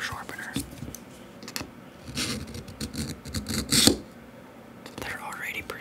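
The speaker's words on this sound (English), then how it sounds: "Since there's three blades, we're going to sharpen the first one." A three-blade knife with an ox bone handle is drawn across a sharpener in close, quiet strokes, giving soft raspy scrapes and scratches in uneven bursts while a voice whispers.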